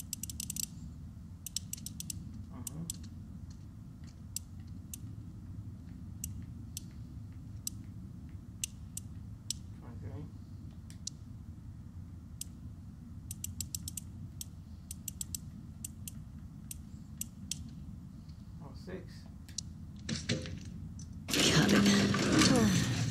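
A safe combination dial in The Last of Us Part II game clicks as it turns, a long run of faint, sharp ticks at irregular intervals, with a louder burst near the end.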